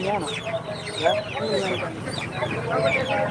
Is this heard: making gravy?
no